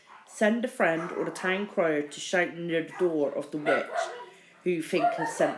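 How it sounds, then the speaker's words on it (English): An excited pet dog barks repeatedly in the background at home, sharp yaps scattered throughout while a person keeps reading aloud over it. "that's my dog going crazy"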